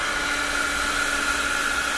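A heat tool much like a hairdryer blows steadily while drying a painting made with coffee, a constant close whooshing hum with a faint high whine, unbroken and with no talk.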